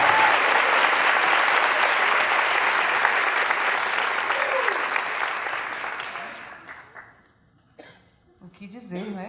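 An audience applauds a speaker being welcomed to the stage at a talk on mental health. Dense, steady clapping fills the room for several seconds, then dies away, and a voice begins speaking near the end.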